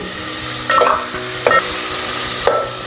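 Masala and chopped tomato pieces frying in a pan, a steady close sizzle with three sharp stirring scrapes spaced roughly a second apart.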